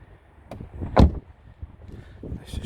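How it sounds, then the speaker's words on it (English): A door of a Volkswagen Golf 1.8 20v GTi five-door hatchback is shut by someone getting out of the car: one loud, close thud, then quiet rustling and faint movement around the car. "that's me getting out of the car there"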